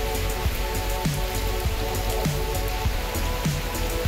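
Steady rain falls and patters on surfaces nearby, a continuous dense hiss with regular heavier drips dropping at a slow, even rhythm throughout.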